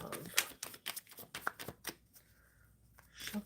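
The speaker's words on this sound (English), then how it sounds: "Shuffling for Whammy for love." Tarot cards shuffled by hand give a series of crisp riffles and soft flutters in irregular bursts, close and fairly quiet, with a voice speaking between them.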